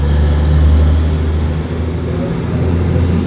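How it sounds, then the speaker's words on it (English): A 19-litre, 750-horsepower Cummins diesel runs with a deep, steady low drone, loud and close, holding an even throb with no speech over it. "Give you some 19 litre 750 horsepower Cummins action"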